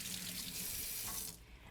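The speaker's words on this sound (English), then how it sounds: "I'm just gonna rinse my hands." Hands rinsed under a running kitchen tap during cooking, a steady close splash of water into the sink that cuts off near the end.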